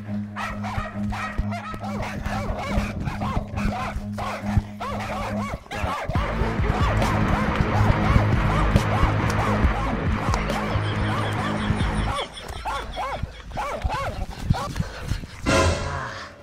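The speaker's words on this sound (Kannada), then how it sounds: "ಬೌ ಬೌ ಚಾಲೂನ ಮಾಡಿಬಿಟ್ರಲ್ಲ." Dogs bark and yip repeatedly through a rural comedy skit, the barking loud and close and mixed in with people talking over it.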